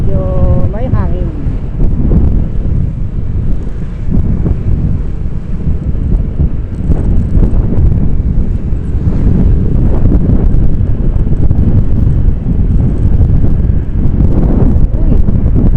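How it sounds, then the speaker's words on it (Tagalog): Strong, gusty wind buffets the microphone during a ride in rainy weather, producing loud, continuous low rumbling that rises and falls, with voices speaking underneath it. "Bigla eh, malakas na hangin."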